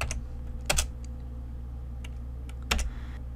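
Sparse keystrokes on a computer keyboard, a couple of distinct clusters of clicks over a low steady hum, close and fairly quiet.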